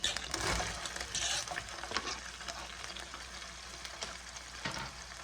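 Beef burger patties fry in a pan with no added oil, giving a quiet, continuous sizzle with scattered pops and a few soft scraping knocks.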